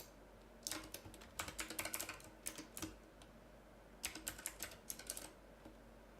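Bursts of rapid computer keyboard typing while code is being written, clusters of sharp close clicks separated by short pauses, quiet and without speech.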